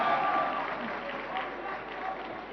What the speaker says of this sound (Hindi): please put your hands together for RJ Ronak as he walks on the stage